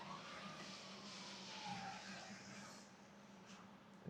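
A car passes by on a road near a BMW E36 parked with its lights on, a faint, smooth whoosh that rises and fades over a low steady hum, heard from a distance.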